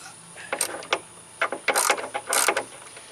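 A ratchet wrench clicks in several quick bursts while backing out an 8mm bolt on the rear hatch of a third-generation F-body Firebird, close and distinct with no talking.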